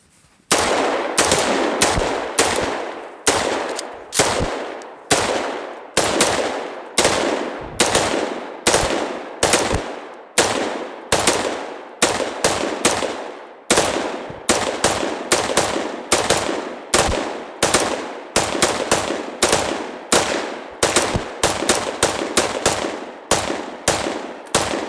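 Rapid semi-automatic gunfire rings out at an outdoor shooting range during a magazine capacity demonstration, as loud sharp shots crack in fast strings with brief pauses for reloading, continuing steadily throughout.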